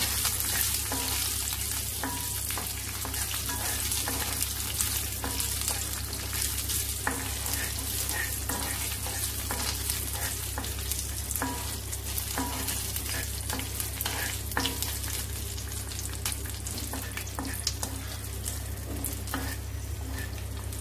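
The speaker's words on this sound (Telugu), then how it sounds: "ఇది కొంచెం ఫ్రై అయిన తర్వాత కిస్మిస్ వేసేసుకోండి. ఇది కూడా ఫ్రై చేసుకోండి." Pistachios and raisins fry in ghee with a continuous close sizzle, while a spoon stirs them through the pan in steady light scrapes and clicks for the whole stretch.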